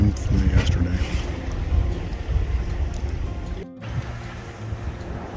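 A sailboat under way on a broad reach near St. Barts and the BVI, with steady rushing wind and water noise buffeting the microphone, loud and continuous with a brief dropout.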